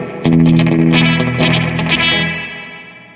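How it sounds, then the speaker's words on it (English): Electric guitar played through an analog delay pedal set to slapback, a short run of loud, bright, effected chords and notes with quick echoes, fading out toward the end with no talking. "So right now I just have slapback."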